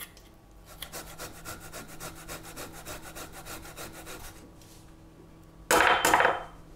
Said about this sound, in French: On vient le peler, comme ceci, et après je vais le râper finement.